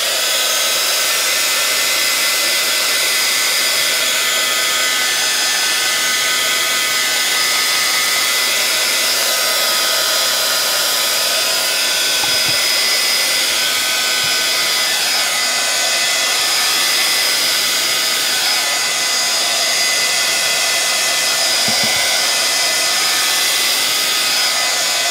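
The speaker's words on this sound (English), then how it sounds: "And then I'm going to hit this with some heat to dry this." A heat tool drying wet paint on a mixed media animal portrait gives a loud, steady, airy blowing roar that runs on unbroken.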